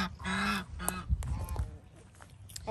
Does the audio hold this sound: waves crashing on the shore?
no